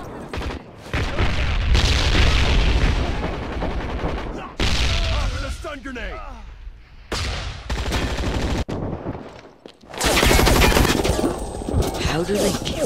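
Loud video game combat with repeated booming blasts that fit grenade explosions, mixed with dense bursts of rapid gunfire and heavy rumbling, continuing throughout with brief gaps.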